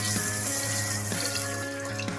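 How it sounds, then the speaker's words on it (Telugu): Water pours from a tap into a vessel of soaking ingredients, a steady close splashing rush with a faint rising hum across the short pour. "ఇప్పుడు ఇందులోనే మనం నీళ్ళు వేసి,"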